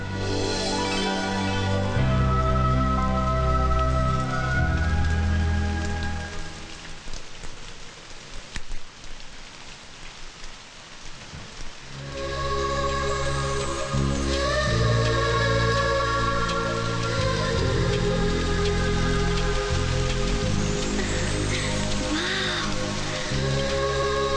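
Steady rain falls at night outdoors under moonlight, a loud continuous hiss with a brief softer dip midway, heard over a sustained musical background.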